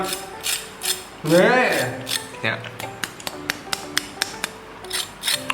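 Crispy fried Thai pork belly being crunched and handled, giving a string of sharp, close crackling snaps and taps at an irregular rhythm, with someone talking briefly over part of it.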